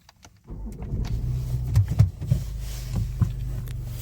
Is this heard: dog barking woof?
no